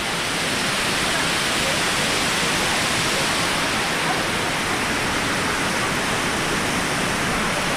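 Amicalola waterfall in the Appalachian mountains roars loud and unbroken as a dense, steady wash of falling water heard up close from a bridge.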